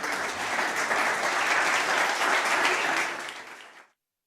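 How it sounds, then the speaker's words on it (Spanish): An audience claps warmly for a government minister at a Barcelona mobility forum, a full burst of applause holding steady for about three seconds before fading quickly to silence. "un buen aplauso para ella"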